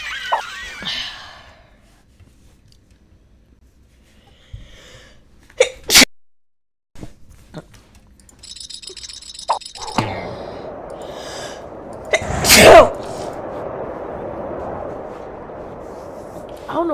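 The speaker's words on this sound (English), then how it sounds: "Quit sneezing! That's like the sixth time." Several separate sneezes from one person spread out over a short span, loud and sharp with quiet gaps between them, with light background noise and some breathing.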